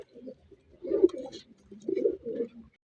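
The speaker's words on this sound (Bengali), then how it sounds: "বন্ধুরা এখানে এক জোড়া কবুতর আছে" A pair of pigeons at a pigeon sale coo softly in two short bursts of low, throaty, rolling calls, heard close against a quiet background.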